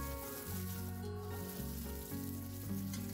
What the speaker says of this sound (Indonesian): Kita tumis kembali sampai harum dan layu ya.